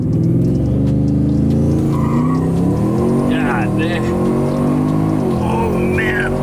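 Car tires spinning at high speed with a loud revving engine and harmonic whine, plus intermittent squeals, while people shout and talk excitedly close by.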